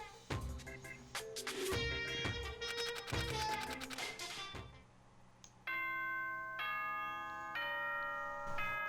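Bright melodic electronic chime from the video game Danganronpa, a series of ringing bell tones with layered sustained notes, loud and clear with no talking.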